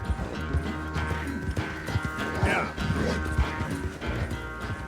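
Horse hooves clip-clop at a steady gallop in the Red Dead Redemption 2 video game, racing toward a camp, set under continuous game music and ambient noise at moderate loudness.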